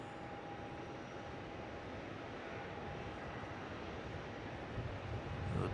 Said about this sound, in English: Qatar cargo pushing back the tripler, heading to Kuala Lumpur.